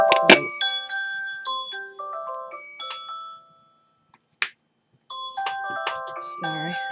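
A doorbell chimes in several bright melodic tones, rings out, then after a pause sounds again with another chiming run, heard indoors during a paper craft session.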